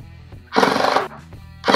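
A power saw cuts 6.5-inch squares from 3/4-inch plywood for caster mounting blocks, heard as two loud, harsh bursts of cutting close up with a quieter gap between.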